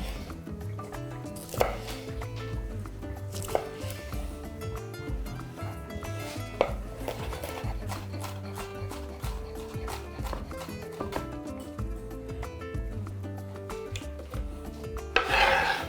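A knife chops red and green jalapeño peppers into small cubes on a board, making a steady series of close, crisp knocks that run for a long stretch with occasional louder strikes and no voices.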